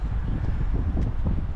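Strong wind on a beach roars and buffets the microphone in continuous low gusts, loud and unbroken, with faint rustling and no speech.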